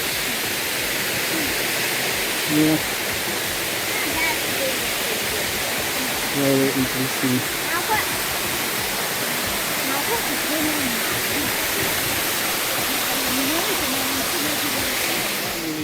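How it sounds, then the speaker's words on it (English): Krushunsky waterfall in Bulgaria's Lovech region roars as a loud, unbroken rush of falling water, with brief voices speaking over it. "We arrived to the central waterfall of this park, Krushunsky waterfall."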